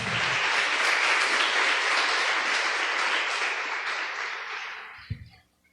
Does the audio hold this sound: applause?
yes